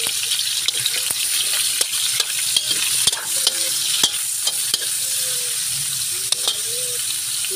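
Chicken feet adobo being stirred in a pan: steady frying sizzle with repeated scraping knocks of a utensil against the pan throughout, loud and close, no talking.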